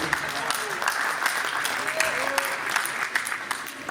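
Crowd applause at a sports awards ceremony, a steady patter of clapping hands with scattered sharper claps, while voices call out and talk over it throughout.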